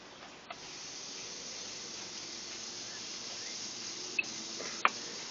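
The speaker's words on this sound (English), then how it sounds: "let the bacon cook a little bit" Bacon cooking in a hot pan, a faint, even sizzle holding steady throughout, with a couple of brief clicks.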